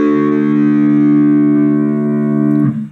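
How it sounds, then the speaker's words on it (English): Electric guitar with the sixth string tuned down to drop D, played through a distortion effect: one loud, sustained low chord rings steadily, close and alone, then is cut off near the end. "so tune your 6th string down till it sounds like this"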